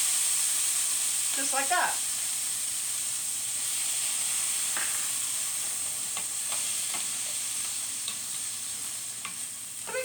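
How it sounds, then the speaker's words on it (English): Chicken and vegetables sizzling and steaming in a skillet after a splash of water, a steady close hiss with scattered crackles and stirring clatter, a brief voice speaking near the start. "sometimes I put a little water in here, and that will speed up the cooking process"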